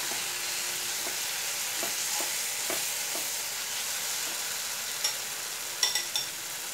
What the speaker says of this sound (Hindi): मसाला को अच्छी तरह से फ्राई कर लेती हूँ।